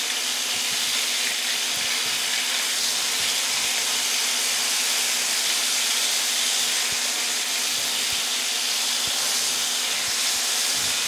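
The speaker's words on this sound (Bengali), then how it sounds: "মাছটা খুব বেশি ভাজবো না, এরকম করে ভাজবো" Fish fillets for doi katla sizzle in hot oil in a pan, a steady, dense hiss with faint crackle running unbroken throughout and no talking.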